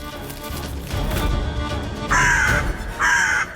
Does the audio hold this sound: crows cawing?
yes